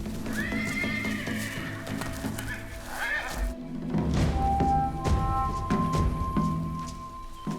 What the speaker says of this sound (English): The group is alerted given the bustle of neighs and broken bushes.